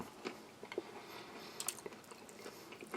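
Crunchy corn nuggets from a Latvian army combat ration being chewed, a quiet run of irregular crunches and bites heard up close with no talking.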